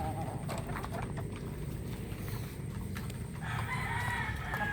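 Chickens, including laying hens, and a rooster call amid a busy farmyard, with clucking and crowing over steady background noise and some distant activity.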